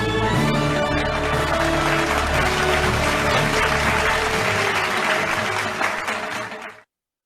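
Loud, sustained applause from a conference audience after a keynote, dense clapping that runs for several seconds before cutting off abruptly, with no voices over it.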